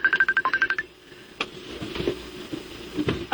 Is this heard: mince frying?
no